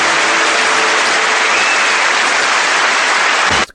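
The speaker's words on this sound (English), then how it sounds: "Applause? You mean there's an audience?" Studio audience applause on a television set, loud and dense clapping that holds steady close by before cutting off abruptly at the end.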